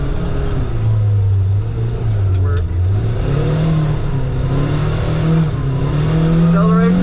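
A 2024 Kawasaki Ridge side-by-side in sport mode accelerates, its engine rising in pitch and falling with the gear changes, a loud close drone that runs steadily under someone speaking.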